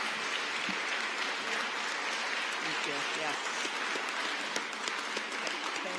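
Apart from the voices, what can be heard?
audience applause at an exhibit opening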